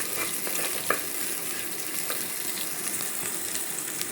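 Chopped onion frying in a pan for a Mangalore-style egg curry, a steady hiss with scraping stir strokes, close and continuous with no voices.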